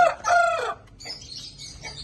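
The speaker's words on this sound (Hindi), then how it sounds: "ये भी मुर्गा है" A rooster crows close by in a short, loud call with a wavering tonal line, then softer clucking and chirping from nearby fowl, with no talk.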